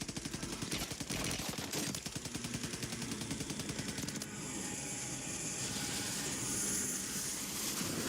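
Gunfire in Call of Duty: Warzone, a fast automatic burst of rapid shots for about four seconds, then a quieter stretch of in-game noise with no talk.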